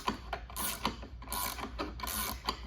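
Rapid mechanical clicking from a Husky pass-through ratchet with a thumb lever for forward and reverse, coming in several close, quick bursts of ratcheting with short pauses between them.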